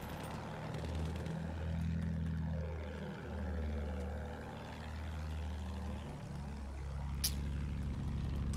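A tank engine in the Battlefield 1 video game, a steady low rumbling drone with shifting pitch that swells and dips throughout, with a brief sharp crack near the end.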